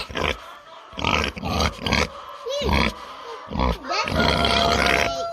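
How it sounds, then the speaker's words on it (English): A large farm pig eats apples up close, letting out loud, deep grunts and snorts in irregular bursts separated by brief pauses, with chewing noises mixed in. "He's not mean. He's just hungry."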